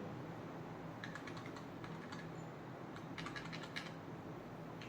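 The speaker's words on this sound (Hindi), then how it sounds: "यहीं से कीबोर्ड का एक की को प्रेस करेंगे और वहाँ पे एस बटन को प्रेस कर देंगे।" Keys pressed on a computer keyboard, soft clicks spaced out in small bursts against a faint steady room hum, quiet and nearby with no voices.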